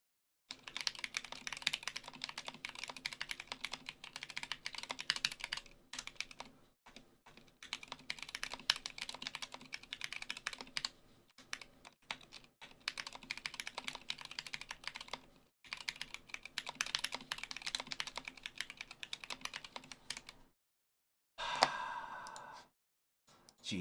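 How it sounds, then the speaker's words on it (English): Loud, clacky typing on a mechanical keyboard, bursts of rapid keystrokes separated by short pauses, close and clear with no talking. "as you can hear there, it is a louder keyboard."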